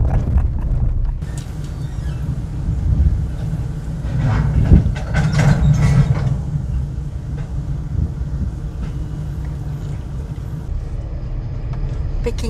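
A train at De Aar railway junction, South Africa, rumbles and clatters along the tracks, its steady low roar building over several seconds as it picks up speed, with rhythmic wheel knocks.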